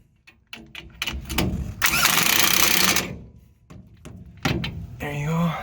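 U-bolts on a 2006 Ford F150 leaf spring are tightened with a loud, harsh mechanical burst of about a second amid thunks and clanks, while someone talks around the tool noise.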